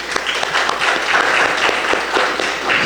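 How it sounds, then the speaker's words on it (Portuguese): A church congregation claps for Jesus during a worship service, dense and continuous applause filling the room close by. "Para o Senhor Jesus, uma linda salva de palmas"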